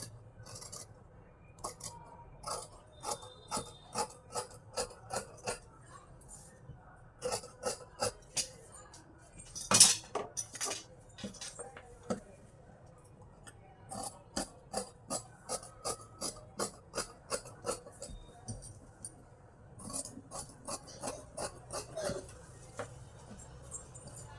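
Scissors cutting the back piece of blouse fabric, heard as quiet, close rhythmic snipping in steady runs of rapid strokes separated by short pauses, with one sharper louder snip midway.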